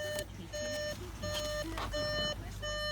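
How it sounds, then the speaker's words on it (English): A 2015 Volkswagen Golf 1.4 Match TSI BlueMotion gives a repeated warning beep with the ignition on, steady evenly spaced electronic pulses heard close up inside the car over a low engine hum. "the beeping is because the ignition is currently on"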